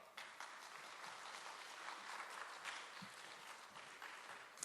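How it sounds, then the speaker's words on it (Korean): A congregation at a Sunday worship service at a school campus applauds to welcome a pastor to the stage, steady and fairly faint crowd clapping that holds evenly throughout. "우리 목사님 나오실 때 우리 크게 박수로 환영하도록 하겠습니다"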